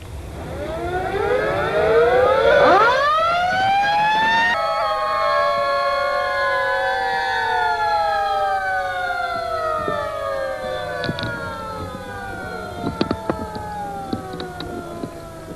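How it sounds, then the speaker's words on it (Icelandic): Fire brigade sirens wail together in farewell, several rising and falling tones overlapping loudly at first, then slowly sliding down and fading, with a few sharp clicks near the end. "Sírenur voru þeyttar í kveðjuskyni."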